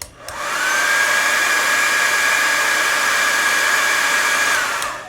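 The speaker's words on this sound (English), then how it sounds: "My hair dryer doesn't really get that hot." A household hair dryer blowing hot air onto a nail wrap, switching on with a quick rise into a loud, steady whooshing whine that holds for several seconds, then cuts off abruptly, close to the listener with no talking.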